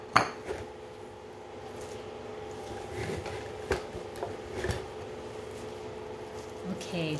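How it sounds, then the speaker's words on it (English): Ground Spam and bacon are stirred together in a bowl, with a series of clinks and scrapes of utensil against the bowl, soft wet squishing between them, and occasional talk. "I'm just gonna mix it a little bit so that the bacon kind of distributes throughout the whole bowl here"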